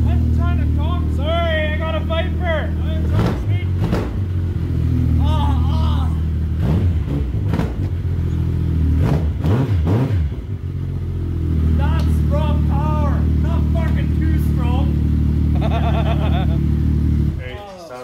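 A 2016 Yamaha Viper MTX snowmobile with a 190 MPI turbo engine revs repeatedly in a shop, its pitch rising and falling in loud close bursts while someone talks over and between the revs.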